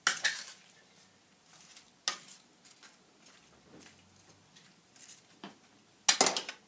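A utensil stirs turkey wings, couscous, fennel and onions in a pan, giving sharp scraping clinks and soft rustling stirs in irregular bursts, close up, with quiet gaps between and no talk.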